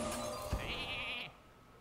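A sheep bleats in the Hearthstone card game as a Polymorph spell turns a minion into a sheep: one short, wavering electronic baa, preceded by a soft magical thump, then quiet.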